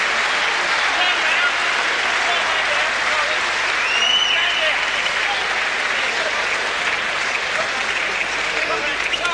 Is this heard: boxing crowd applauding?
yes